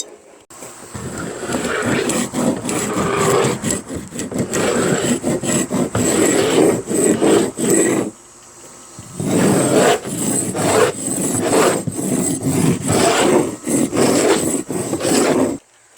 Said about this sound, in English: we'll scrape all the flakes off, the big pieces